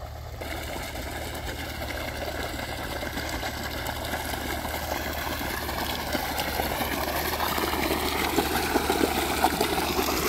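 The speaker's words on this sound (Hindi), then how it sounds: "अब बाकी पानी चल रहा है" Irrigation water runs along a channel into a wheat field, making a continuous broad rushing flow that stays even and slowly grows a little louder, with no voices.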